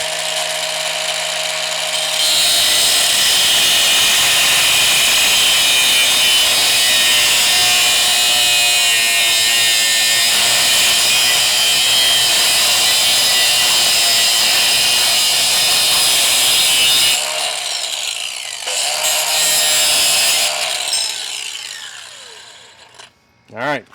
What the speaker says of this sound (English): So when I get my grinder out, I'll be able to still cut them just fine.